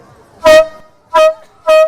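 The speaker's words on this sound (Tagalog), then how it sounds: "meron din daw sila ng giant air horn na tulad nito na binobomba lang" Three loud, blaring blasts from a hand-pumped giant air horn, each a rich brassy honk about a third of a second long, separated by short pauses.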